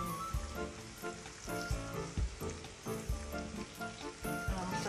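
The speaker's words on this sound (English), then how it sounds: "I'm sauteing the potatoes into the gravy." Carrots and potatoes sizzle in a pot of pot roast gravy, a steady close frying hiss with loud rhythmic thumps of the pot and spoon repeating throughout.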